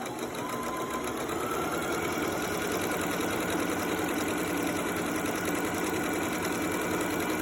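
A sewing machine runs a permanent stitch along lines of fabric, giving a continuous fast mechanical whirr and rapid needle clatter, steady and close with no talking.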